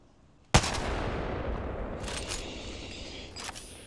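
Enemy gunfire in a Batman video game: one sharp, loud shot opens into sustained noisy rumble and rattle, with a couple more fainter bursts later on.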